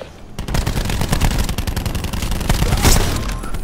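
Rapid automatic fire from a Rampart 17 rifle in Call of Duty, a loud, steady stream of close shots in quick rhythm with a sharp boom near the end, no talking over it.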